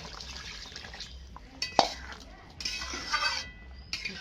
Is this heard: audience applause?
no